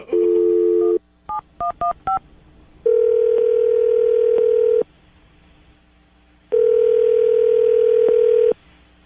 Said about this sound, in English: we're going to dial the phone number right now, see if we can get her on the phone